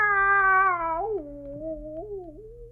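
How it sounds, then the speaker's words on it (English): A single drawn-out cat meow in a quiet house scene from a radio drama, loud and close, sliding down in pitch and wavering over a low steady hum. "That cat."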